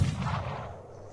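A rifle fires once in the video game Mordheim: City of the Damned, a single heavy boom that trails off into a low, rumbling decay over about a second, with no voices.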